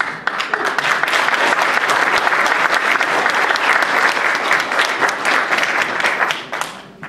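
A humour show audience in Estonia, Maamees muigab 2015, breaks into loud, dense applause that holds steady for several seconds, a thick wash of many hands clapping with no voices over it.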